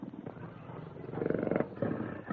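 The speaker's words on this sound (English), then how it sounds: "Satan is the only tiger in all Africa" A tame tiger, raised from a kitten in the Malay states, lets out a deep, rumbling roar that swells and breaks into heavy growling pulses, close and loud with no talk.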